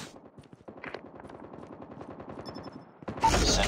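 Sentry gun in a Call of Duty style shooter's Kill Confirmed mode, a fast steady stream of automatic shots, moderately distant, ending in a louder burst of noise.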